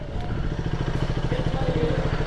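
A motorcycle engine idles close by at a café-pub parking spot, a steady low rhythmic thrum with a slight rattle running evenly throughout without pauses.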